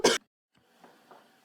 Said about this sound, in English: I'm sorry to clear my throat.